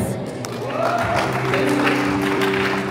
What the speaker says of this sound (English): May you clap your hands.